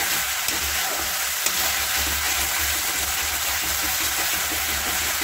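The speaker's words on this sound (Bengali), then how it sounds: "সেই তেল দিয়ে ভালো করে মশলাগুলোকে কষিয়ে নিতে হবে।" Spice paste frying in oil for a potato chicken curry, a constant loud close sizzle with a low rumbling undertone and light stirring throughout.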